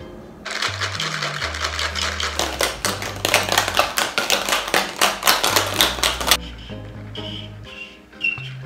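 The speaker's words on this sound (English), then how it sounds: "You put ice and then you shake" Cocktail shaker packed with ice, shaken hard for a Crooked Heart Daiquiri: a loud, fast, steady rattle of ice cubes close by that runs for about six seconds before stopping.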